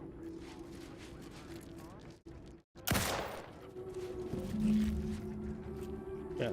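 Video game gunfire, a loud burst of shots cracking out partway through amid in-game ambience while a weapon is swapped.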